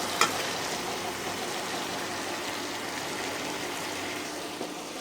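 Potatoes, tomatoes and bean seeds fry with spices in a pan, a continuous broad sizzling hiss that stays even and close, with a single faint knock near the start.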